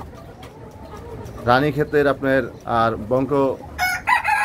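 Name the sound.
Australorp chickens clucking and rooster crowing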